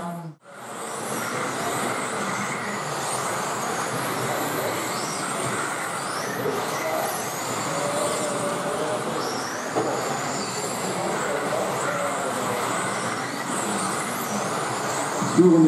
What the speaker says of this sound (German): Das führende Fahrzeug setzt schon zum Überrunden an.